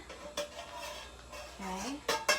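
Vegetable mix tipped into a pan and stirred, with a few sharp utensil clacks against the cookware near the end and faint kitchen background in a home kitchen.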